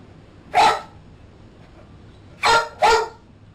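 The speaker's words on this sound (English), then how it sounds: "barks got a little bit deeper and a little bit more laboured" A dog barks for attention three times, one bark then a close pair, each deep and laboured, with quiet room tone between.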